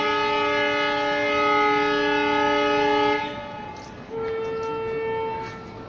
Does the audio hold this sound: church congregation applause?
no